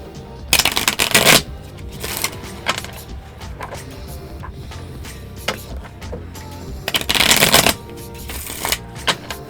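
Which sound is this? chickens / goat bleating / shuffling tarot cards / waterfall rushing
shuffling tarot cards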